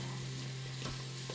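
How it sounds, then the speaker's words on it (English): Ginger stirred into a hunter's hotpot over heat, a soft steady sizzle with a brief scrape of stirring partway through, quiet and close. "Just gonna stir that in."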